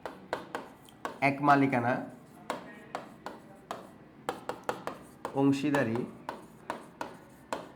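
Writing on a board during a class, sharp irregular taps and strokes, fairly close, with someone speaking briefly twice between them.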